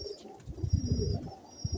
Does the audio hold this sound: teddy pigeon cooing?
yes